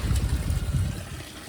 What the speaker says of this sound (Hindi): बारिश आ गई आज सुबह ही सुबह